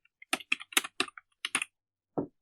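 Keys on a computer keyboard are tapped in a quick burst of about eight clicks while a word is typed into Microsoft Word, then a short pause and one final keystroke, close and crisp in a quiet room.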